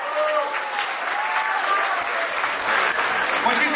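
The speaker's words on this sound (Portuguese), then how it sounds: "un fuerte aplauso a nuestro ministro de Educación" Audience applause for Peru's Minister of Education fills a hall, thick, continuous clapping at close range with a few cheers, steady in loudness throughout.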